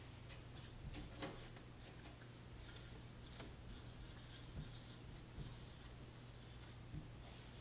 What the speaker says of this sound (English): Let me write the word Punnett.